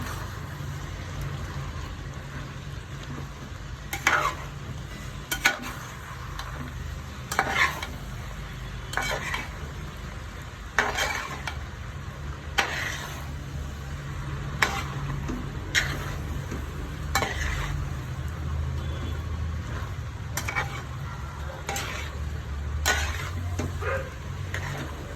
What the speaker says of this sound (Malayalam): ഇനി ഇതിൽ മരിച്ചിനെ ഇട്ട് കൊടുക്കാം. നന്നായിട്ടൊന്ന് ഇളക്കി യോജിപ്പിക്കാം.